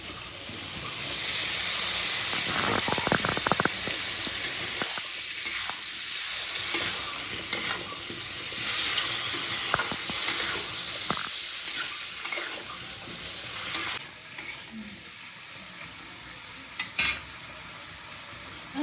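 Potatoes and pointed gourd sizzle in a pan for a prawn curry, a continuous close frying hiss broken by repeated stirring scrapes and a few metallic clinks of a spatula against the pan.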